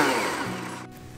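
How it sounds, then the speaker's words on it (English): A Blendtec blender on its smoothie cycle whirs loudly through banana, spinach, peanut butter and yogurt in a replacement jar, the motor pitch dropping and the sound briefly dipping near the end. "I went ahead and put it through the smoothie cycle to see how this thing would"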